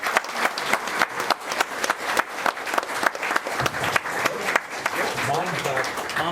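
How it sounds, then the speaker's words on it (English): Healthcare workers receive a round of applause from an indoor gathering: dense, steady clapping from many hands, fairly close, with voices talking over it near the end. "Let's give them a round of applause"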